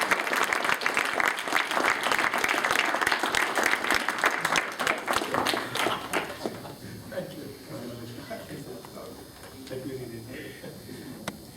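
A crowd at an anniversary awards event in the UK applauds an award winner with loud, dense clapping for about six seconds, then fades to scattered claps and murmuring voices.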